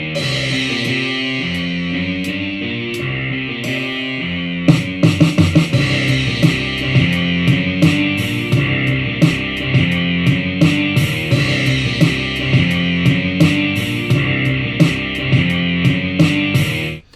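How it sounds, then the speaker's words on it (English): Electric lead guitar plays a distorted rock riff, joined after a few seconds by punchy drum hits that accent parts of the riff, loud and continuous with no voices. "This is the lead guitar playing the riff and the drum just highlighting some bits in there."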